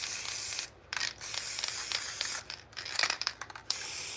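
Peach paint from a spray can hisses onto a shoe in short bursts, several close, loud sprays broken by brief pauses and softer rustling between them, with no talk.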